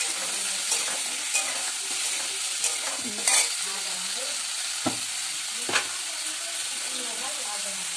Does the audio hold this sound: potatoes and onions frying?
yes